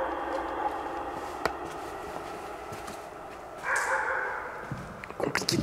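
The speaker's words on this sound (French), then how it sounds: "insupportable ce chien" A dog barks several times in a quiet indoor space, a few short sharp barks scattered through the stretch and a louder cluster near the end, over faint background hiss.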